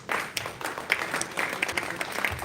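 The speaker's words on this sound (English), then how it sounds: "Please give a big round of applause, Dr. Swarup." Audience applause following a medical talk at an event: dense, continuous clapping from a crowd in a hall, steady and moderately loud throughout, with no voices standing out.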